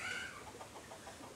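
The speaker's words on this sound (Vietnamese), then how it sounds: "Con gà nhà dì nó hình như nó cũng không có ưng lắm." A farmyard chicken clucks nearby in a quick burst near the start, then softer clucks follow over a low background hum.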